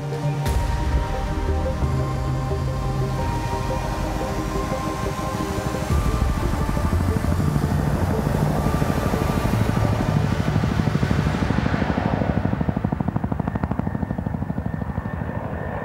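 A Caracal special forces helicopter roars steadily and close, its rotor and turbine droning loud and continuous without any voices.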